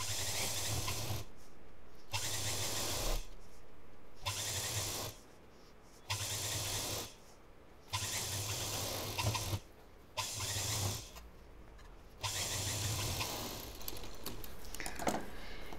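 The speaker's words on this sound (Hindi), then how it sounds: "और यहाँ पर डबल मशीन चलेगी" A home sewing machine runs a double line of stitching along the folded seam of a fabric shopping bag, whirring in about seven short, even bursts with brief quiet gaps between them.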